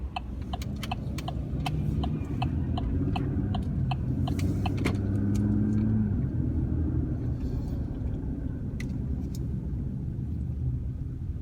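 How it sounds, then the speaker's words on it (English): A Chevy Colorado pickup drives through town with a steady low engine and road rumble that stays even throughout, while faint regular ticking, like a turn signal, clicks over the first several seconds. "I'm going to just drive you through town,"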